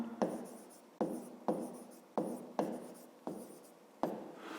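A pen writes an answer for a fifth-grade math exercise in a notebook, with six evenly spaced, sharp scratching strokes close to the microphone in a quiet room.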